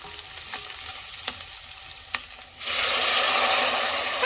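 Mackerel with a little ginger sizzles loudly in a frying pan, a steady bright crackle that bursts in after a few faint taps and stirring clicks.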